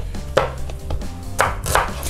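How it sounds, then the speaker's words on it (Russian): Knife finely chopping onion on a board in a home kitchen, with irregular close crisp taps and a few louder strikes, heard alone without talk. "Режем лук мелкой крошкой и жарим его"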